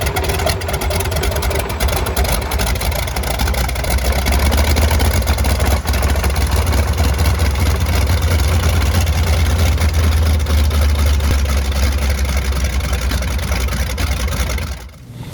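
The radial engine of a Model 12 biplane, driving its propeller, runs loud and close with a steady, rough low drone that holds unbroken before dropping off sharply at the end.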